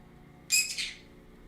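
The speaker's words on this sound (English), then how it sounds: "Silly birds." Pet birds in a home give one brief, bright chirping call up close, about half a second long, over a quiet room.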